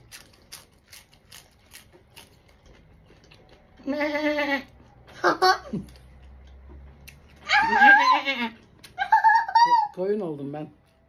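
A person imitates a sheep's bleat, giving several loud, wavering, nasal baa calls in bursts, close by, after a series of faint soft taps, with a quieter low hum underneath.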